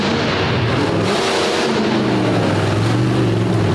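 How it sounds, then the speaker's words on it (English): A Bullnose Ford monster truck roars around a dirt oval, its engine a loud, continuous drone that rises and falls in pitch as it works through the turns, close and steady throughout. "The Bullnose Ford making its way around the dirt oval."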